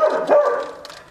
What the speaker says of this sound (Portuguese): Se dá 3 horas da manhã, o Juno começar a latir, eu me mato aqui.